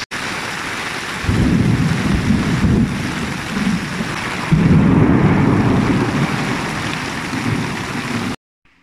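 Heavy rain pours down steadily with deep rumbling thunder swelling in two long waves, loud and close throughout, with no voices, cutting off abruptly at the end.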